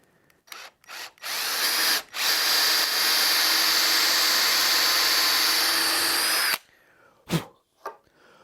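A power drill bores dowel holes in oak boards for a fire surround, with short bursts followed by one long steady high whine of about four seconds, then brief handling knocks and a quieter spin-down.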